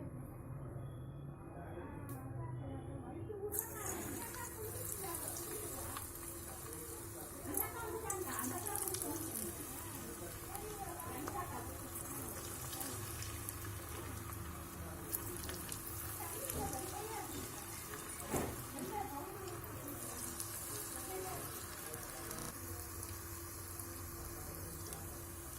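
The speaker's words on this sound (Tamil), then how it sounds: "இப்போ நம்ம அது எண்ணெயில் போட்டு பொரிச்சு எடுக்கலாம்" Mutton kola urundai balls of minced meat deep-frying in hot oil, giving a steady dense sizzle and bubbling crackle throughout with occasional sharper pops.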